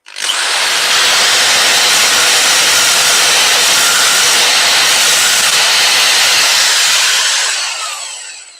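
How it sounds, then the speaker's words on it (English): Loud, close, steady abrasive whirring of a drill-mounted wire brush scrubbing bark off a cherry branch, running continuously for about seven seconds before spinning down, with no voices. "I'm just going to use a wire brush in a drill"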